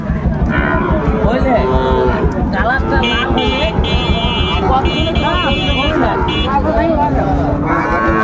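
Sahiwal cattle moo repeatedly at a busy outdoor cattle market in Cumilla, Bangladesh, low calls rising over a steady crowd of people talking nearby.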